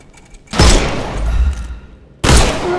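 Gunshots in the video game Sherlock Holmes Chapter One, two loud sharp blasts about a second and a half apart, the first trailing into a rumbling echo.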